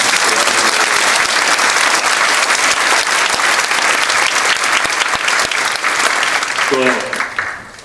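A church congregation at a leadership installation ceremony in Daejeon breaks into loud, sustained applause that fills the room. It fades near the end as a voice begins to speak.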